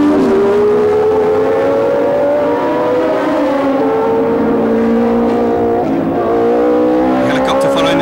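Formula One cars racing at the 1976 US Grand Prix West on a street circuit: loud, close engine drones with shifting pitches as cars pass, under a commentator's voice.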